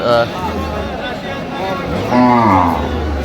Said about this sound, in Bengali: গাভী বাছুর কিন্তু দুধ কম